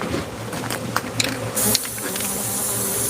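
Bees that cannot fly and are dropping buzz steadily with a low droning hum, joined by a few short clicks and scrapes up close.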